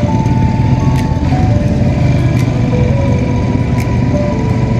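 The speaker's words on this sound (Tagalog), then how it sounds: "Dala namin yung tricycle niya ang Kulawe." A motorized tricycle engine runs steadily and loudly close by, a continuous droning hum with a faint tonal whine throughout and no talking.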